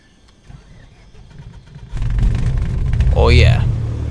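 A Cessna 152 engine in Microsoft Flight Simulator 2024 cranks and catches, rising from a quiet cockpit into a loud, steady idle rumble, with someone talking over it.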